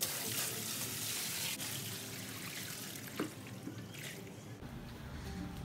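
Water poured from a bucket during a filter backwash, a continuous splashing rush of water running steadily and fairly faint throughout.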